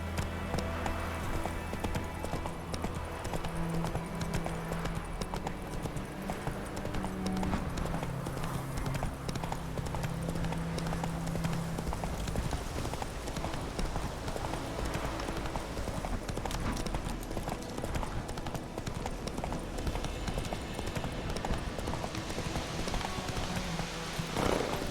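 Roach the horse galloping in Witcher 3, rapid steady hoofbeats drumming continuously for the full stretch under game ambience and music, with no talking.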